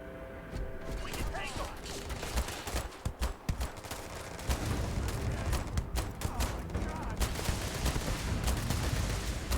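Gunshots in a Starfield firefight, a fairly quiet, cluttered run of rapid shots and bursts with mechanical clatter, going on under and between a talking voice.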